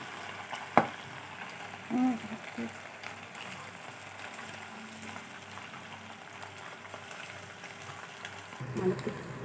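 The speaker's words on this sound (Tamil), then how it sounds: "இப்போ இதை எடுத்து ஃப்ரை பண்ணிடலாம்." Marinated anchovies (nethili) fry in oil in a pan with a steady, moderate sizzle, marked by a sharp utensil clink early on and a few soft knocks and stirring noises.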